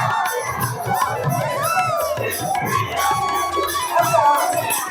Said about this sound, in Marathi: हे पहा आतमध्ये गर्दी जरा भयानक जास्तच गर्दी आहे